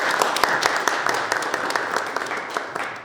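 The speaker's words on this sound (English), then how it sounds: "Let's give him a round of applause." An audience applauds at a Customer Services Week celebration, a sustained crowd clapping of moderate loudness with scattered sharper individual claps across the whole stretch.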